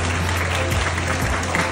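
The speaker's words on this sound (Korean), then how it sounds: "큰 박수 받으시기 바랍니다." Steady applause from a conference audience fills the whole moment, continuous and fairly loud, with a low hum underneath and no clear speech.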